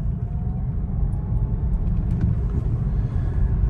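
Citroën DS3 Crossback electric car accelerating hard in sport mode, a steady low road-and-motor rumble with a faint electric whine running continuously throughout, heard from inside the cabin.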